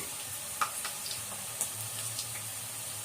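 Murukku frying in hot oil for Diwali, a steady low hiss with a few soft pops and crackles scattered through, fairly quiet and with no voices.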